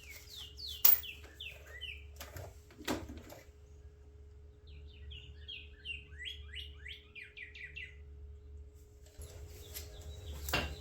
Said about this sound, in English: Oh, it's a cardinal.